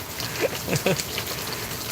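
Heavy rain falls steadily in Mumbai, a constant wash with a few brief louder splashes and knocks over it.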